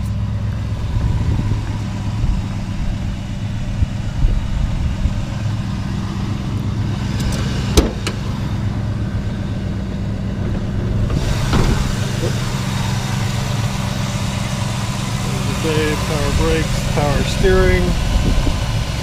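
A 1964 Ford Galaxie 500 Custom with a big block 352 V8 idling, a steady low rumble running the whole time, with a clack and someone speaking briefly over it near the end.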